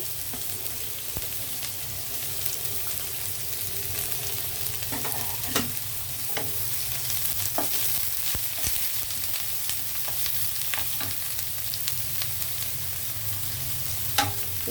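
Onion frying in a pan of hot oil, a continuous soft sizzle with a low steady hum beneath and scattered clicks and scrapes of stirring, moderately quiet and close with no voices.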